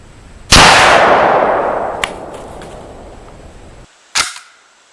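A Remington 740 semi-automatic hunting rifle, about 65 years old, fires at an outdoor range: one loud close shot with a long ringing decay, a small metallic click, then a second sharp report.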